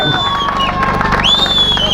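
At the final event of a cricket league in Chandanwari, a crowd cheers and claps for a departing player. Shouts and whistles mix with applause in a brief, lively burst under a nearby voice.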